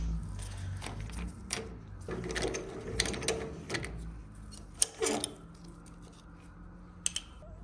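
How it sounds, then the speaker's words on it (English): A hose assembly tool pushing a -10 braided hose into its fittings for a Corvette intercooler setup gives off irregular mechanical clicks, ratcheting and scraping, with a few sharp metallic snaps near the end, close and moderately loud, no talking. "You can push the hose into these fittings, but the neighbors have this tool, and it kind of just makes it easier."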